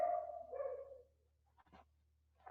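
A small dog gives a drawn-out whimpering whine, then a couple of soft, short barks, faint and indoors over a low steady hum, with no talking.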